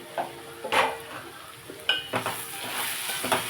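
Chili powder, coriander, cumin powder and salt are stirred into a curry of drumstick, potato and brinjal, a spoon scraping and clinking in the pan with a soft sizzle, several quick strokes close up.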